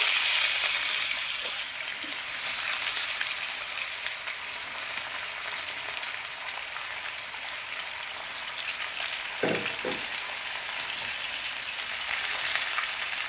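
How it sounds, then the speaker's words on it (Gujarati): Potato chips sizzle and fry steadily in hot oil in a pan while a masala sabji is being cooked, with a close, continuous crackling hiss and a couple of brief clinks partway through. "અને હવે આપણે બટેટાની ચિપ્સ ઉમેરી દઈશું"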